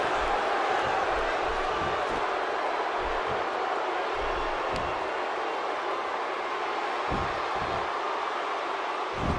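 Dense, steady roar of a wrestling arena crowd in WWE 2K16 at a Kenta Kobashi and Minoru Suzuki versus Kazuchika Okada and Shinsuke Nakamura tag match, loud and continuous with occasional low thuds from the ring.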